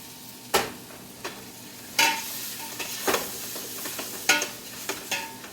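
Pineapple collard greens being stirred in olive oil in a pan, with a soft steady sizzle broken by several sharp scraping strokes of the spoon at irregular intervals, close and fairly quiet with no talking.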